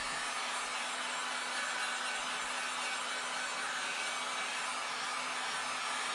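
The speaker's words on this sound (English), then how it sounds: "So I'm going to use the heat gun just to speed up the procedure just that little bit." A heat gun dries high build primer on a car body panel during minor rust repair. It blows a steady, continuous roar close by, with no voices.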